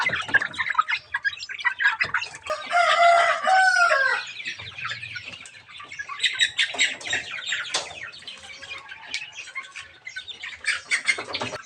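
Chicks and young chickens, fed grower feed and coconut pulp, cluck and squawk continuously, several birds close by, with a busy overlapping chorus and a louder burst of squawking near the start.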